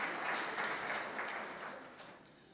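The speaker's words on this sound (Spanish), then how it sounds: "Aplausos." Audience applause at an international seminar on traceability, a broad steady wash of clapping from a crowd that gradually tapers over a few seconds, with no talking.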